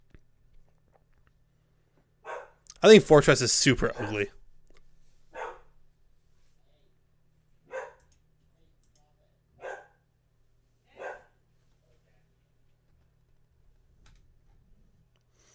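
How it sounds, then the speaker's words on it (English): A dog gives a single loud bark burst, then several short, quieter barks spaced a couple of seconds apart, with a brief spoken line in between and near-silence around them. "My dog never barks like this."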